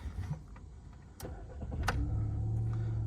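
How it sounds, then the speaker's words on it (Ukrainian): A 1.6-litre petrol Volkswagen Golf 5 engine cranks and catches, then settles into a steady low idle, heard up close after a couple of faint clicks. "Автомобіль заводиться з півоберту."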